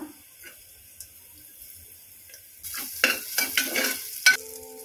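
Onions with a little salt dropped into hot oil for cauliflower kurma: a quiet room gives way to a sudden close sizzle with a few spoon scrapes and clinks partway through.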